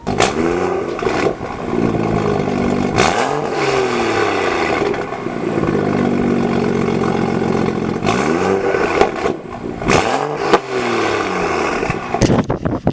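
BMW N55 engine fitted with a 4-inch catless downpipe, resonator delete and MPE axle-back exhaust, loud and close, revving repeatedly in sharp rising and falling bursts with a raspy idle between.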